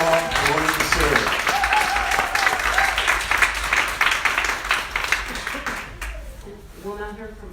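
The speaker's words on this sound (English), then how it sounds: "So let's give them a round of applause." Attendees at a municipal advisory council meeting give a sustained round of dense applause that tapers off, followed by a voice speaking alone at the end.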